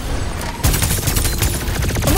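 Dense rapid gunfire in the battle royale shooter Farlight 84 during a team deathmatch, a loud continuous fusillade of overlapping shots with no pauses.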